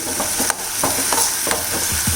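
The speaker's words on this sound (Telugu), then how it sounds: "ఇది ఐ ఫ్లేమ్ మీదనే బాగా పచ్చివాసన పోయే వరకు వేయించుకోండి" A ground spice mixture frying on a high flame, with a steady loud sizzle throughout and soft repeated scraping from stirring at a roughly even rhythm.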